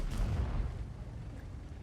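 A tank gun, a Leopard 1 in the World of Tanks video game, fires a single deep boom whose low rumble fades out over the following moments.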